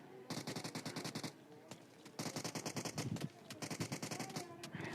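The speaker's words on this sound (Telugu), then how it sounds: "ఇండియన్ స్నైపర్ వచ్చేసి ఇండియన్ హంటర్ని కిల్ చేసేసిండు" Rapid bursts of gunfire in the mobile battle royale game PUBG Mobile, three clustered volleys of quick cracking shots separated by short pauses, crisp and near, with a voice talking faintly in the background.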